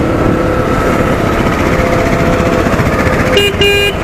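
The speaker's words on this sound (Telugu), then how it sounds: "హార్న్ కొంచెం లో సైడ్ ఉంది, తక్కువ వినిపిస్తుంది సౌండ్" Engine of a KTM Duke 125 BS6 motorcycle rumbles close by, and near the end a short horn sounds in a couple of brief toots over the running motor.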